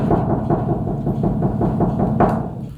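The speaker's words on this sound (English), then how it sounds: "we'll knock here." Knocking on a Mitsubishi Rosa bus panel fitted with sound deadening, a steady series of dull, muffled thuds repeating roughly every quarter second, fairly loud and close with no voices.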